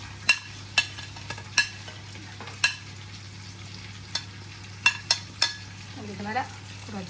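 Onions fry with salt and sugar for ghee rice, a faint steady sizzle under scattered sharp clinks of a spoon against the pan, with a soft voice near the end.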